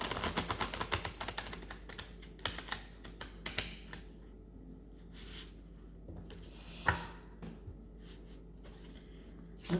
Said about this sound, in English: So one more shuffle, and then clearing the cards.